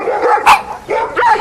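A pack of dogs barks sharply at close range while chasing a jackal, with three loud yelping barks in quick succession.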